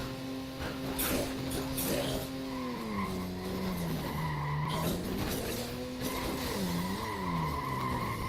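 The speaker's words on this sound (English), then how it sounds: "like the screeching of the car" Car tires screech and skid in Dead Rising 2, a long wavering squeal that bends up and down in pitch over an engine, loud and continuous for several seconds.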